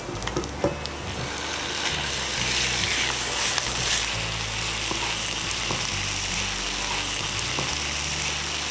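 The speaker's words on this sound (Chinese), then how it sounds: "然后倒入鸡腿肉，不断翻炒。" Chicken thigh meat stir-fried with minced garlic in hot oil, giving a steady, fairly loud sizzle with scattered scraping and clatter from constant stirring, and no voices.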